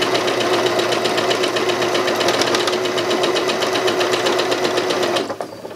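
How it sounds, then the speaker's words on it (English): A sewing machine runs steadily as it quilts lines between fabric squares on a sensory pinwheel quilt, a close, fast, even mechanical whirring and needle ticking that stops abruptly near the end. "it will allow you to sew in between each of your squares, which will give you that really nice quilted effect"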